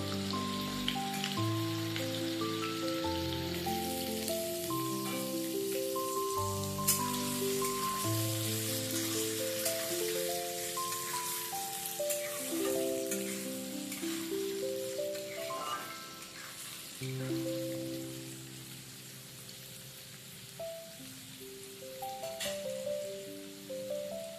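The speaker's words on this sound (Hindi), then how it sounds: "तेल गर्म हो गया है, अब हम इसमें कटा हुआ आलू ऐड करेंगे।" Chopped potatoes fry in hot oil for a veg biryani, giving off a steady, rain-like sizzle that continues evenly throughout underneath background music.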